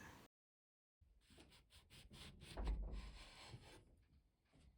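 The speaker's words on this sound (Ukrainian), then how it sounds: "Ріжу кожен апельсин на 4 частини." A knife saws through oranges, cutting them into quarters on a board: a brief silence, then a run of close rasping strokes and a soft thud, with no talk.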